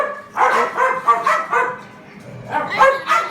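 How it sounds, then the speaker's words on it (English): Dogs bark repeatedly in a home kitchen during cheese straw preparation, loud and close, in two bursts separated by a brief lull, with faint voices around them. "Sorry about the dogs."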